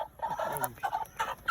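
A desi hen weighing about three kilograms clucks close by in a short run of throaty, clipped calls with brief gaps between them.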